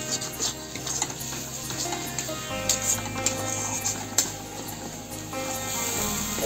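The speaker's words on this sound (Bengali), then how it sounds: "টমেটো দিয়ে মশলাটা আর একটু কষাবো" Masala is fried with chopped tomatoes in a pan while cooking a tinda (Indian round gourd) curry, a steady sizzle under repeated scraping and clinking of a stirring spoon against the pan.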